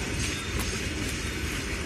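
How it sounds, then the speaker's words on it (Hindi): A train runs along a railway track nearby, giving a steady, loud rolling rumble with a continuous clatter of wheels and no break throughout. "ये है ट्रेन चल रही है"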